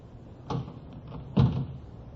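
A door is tried and pushed open in an old-time radio drama, giving two dull wooden knocks and thumps about a second apart against a quiet room background.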